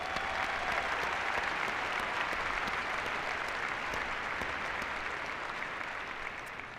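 A large audience at a university commencement applauds steadily, a dense wash of clapping that holds level throughout and eases off slightly at the end.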